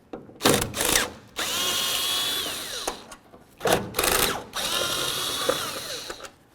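A power drill on a 2002–2008 Dodge Ram 1500 removing two taillight mounting bolts, two bursts of whirring spin-up each followed by a steady high whine, close and loud, with brief ratcheting clicks between them.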